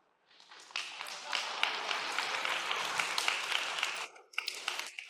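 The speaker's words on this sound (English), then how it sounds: "I didn't expect applause at this point, but thank you." Audience applause breaks out in a lecture hall during a personal talk, a dense, steady wash of many hands clapping that holds for about four seconds, dips briefly, then resumes with a few scattered claps.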